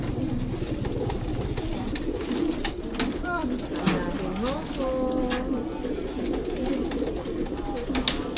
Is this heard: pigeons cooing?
yes